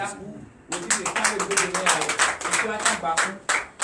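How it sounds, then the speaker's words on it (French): A church congregation at a Sunday worship service in Benin breaks into clapping after a short pause of talk, fast rhythmic hand claps, loud and close, with voices mixed underneath. "Donnez l'acclamation."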